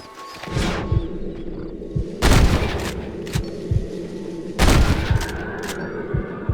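Revolver shots ring out in a shooting contest against Ira Shelton in the Western video game Red Dead Redemption: a series of sharp, loud cracks, two heavier booming shots standing out, spaced irregularly over a low background rumble.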